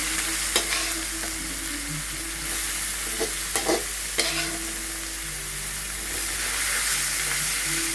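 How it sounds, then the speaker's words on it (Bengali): Boiled red amaranth greens sizzle in a hot pan with fried garlic while being stirred, a steady frying hiss broken by several sharp scrapes and clacks of the spatula. "এখন সিদ্ধ করে রাখা শাকগুলো দিয়ে দিব।"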